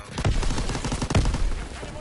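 Gunfire from a WWII video game in beta, a couple of loud, close, spaced shots crackling among dense bursts of battle noise.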